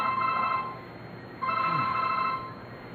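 A telephone bell rings twice in distinct bursts separated by a short pause, moderately quiet in a room with no talking over it.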